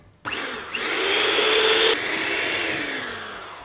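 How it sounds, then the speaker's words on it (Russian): An electric mixer whips cold cream at high speed, a loud steady whirring drone that starts abruptly, rises in pitch as the beaters spin up, then eases slightly toward the end, with no talk over it. "И я также на высокой скорости начинаю взбивать до плотных масс."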